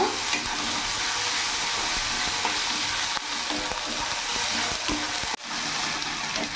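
Okra with yogurt and ginger-garlic-chili paste is stirred in a pan, with a dense, steady sizzle and soft rhythmic scraping of a spoon that pauses briefly twice, all close up with no talking.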